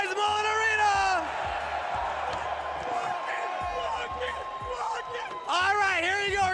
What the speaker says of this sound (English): Make some noise, Mullet Arena.